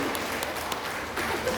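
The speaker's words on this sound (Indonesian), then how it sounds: "Tepuk tangan dulu buat perempuan." Dense, steady applause from an audience at a religious gathering at a school, continuous and fairly close with no pause.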